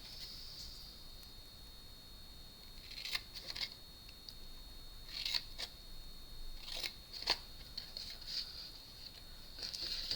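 Scissors snip paper for a handmade gift card holder, a few crisp close cuts in short clusters over a steady faint hum, with no talking.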